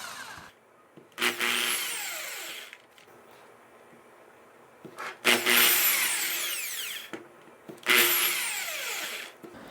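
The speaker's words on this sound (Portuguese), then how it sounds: "Não é para parafusar direto, é só um pequeno furo para colocar o parafuso." A power drill bores a small pilot hole for a screw in wood for a tripod floor lamp, whining in three bursts of a couple of seconds each, close and moderately loud, with quiet pauses between.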